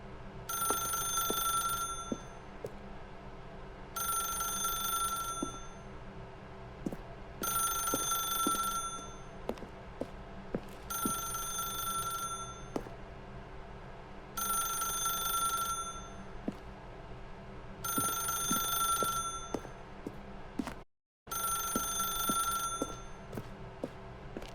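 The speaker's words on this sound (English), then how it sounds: "then pick up the phone" Telephone in The Stanley Parable ringing in six evenly spaced bursts of bright trilling bells, each about two seconds long with short pauses between, loud and alone, cut briefly near the end.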